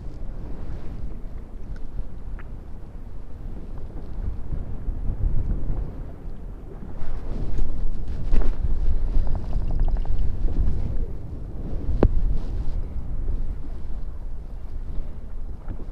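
Strong gusts of wind buffet an open fishing boat on a lake during bass fishing, giving a continuous loud rumbling roar with surges and the rough blustery texture of wind hitting the microphone. No one speaks.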